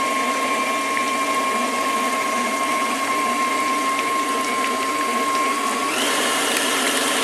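Electric mixer whirring steadily as it creams butter with herbs and spices, a constant high motor whine that shifts brighter near the end as the speed rises.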